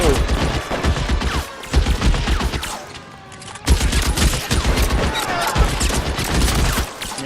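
Rapid, dense gunfire erupts in a shootout in the video game L.A. Noire, volleys of shots cracking close and loud, briefly dropping away near the middle before resuming, with voices mixed underneath.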